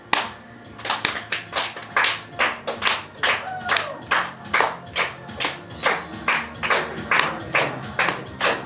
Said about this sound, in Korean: 박수를 치면서 우리 큰 목소리로 한번 실로암 노래를 우리 한번 찬양을 했으면 좋겠어요